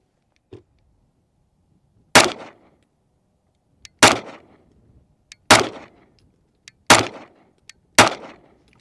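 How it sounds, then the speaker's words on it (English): A Bul Armory Ultralight Pro compact pistol firing Atlanta Arms 115 ammunition at a range, five loud, sharp shots spaced about one and a half seconds apart, each ringing briefly, with a faint click before each shot and no talk. "Now I'm just going to shoot this group for confirmation, and this gun should be zeroed for carry."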